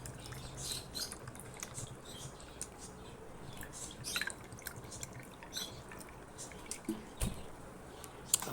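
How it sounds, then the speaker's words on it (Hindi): Cold water is poured into a tamarind and plum sherbet, a faint, steady trickle with soft drips and patter heard alone at low level. "थोड़ा सा ठंडा पानी डालेंगे।"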